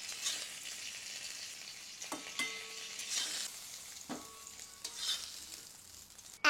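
Fish frying in hot oil in a home kitchen, with a soft steady sizzle and occasional clinks and stirring scrapes from a utensil, faint and close.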